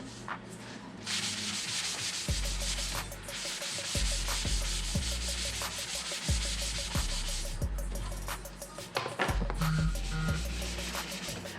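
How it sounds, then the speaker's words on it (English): An orbital sander works over stained wood, a steady broadband whir of abrasive rubbing that runs close and loud through the whole stretch with small shifts in pressure and no voices. "You can use orbital sander to sand it back down,"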